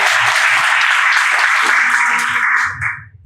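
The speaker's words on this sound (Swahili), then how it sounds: "Yesu ni mwema kweli. Tumpe makofi tafadhali." A Kenyan church congregation in Kisii bursts into loud, continuous applause that fades out near the end as a voice starts to speak.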